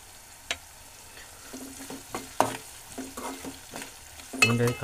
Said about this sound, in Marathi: कांदा आपला शिजायला हवा